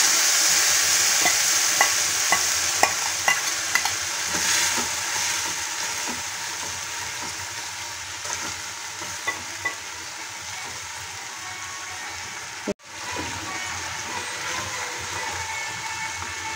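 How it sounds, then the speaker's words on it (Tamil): Jackfruit seed kootu bubbles in a pan with sautéed onions, giving a continuous close sizzle and hiss scattered with faint stirring clicks. The sound cuts out for a moment near the end, then resumes. "வெங்காயம் நல்லா வதங்கிடுச்சு. இதில் கூட்டை சேர்த்து ஒரே கொதி விட்டுக்கலாம்."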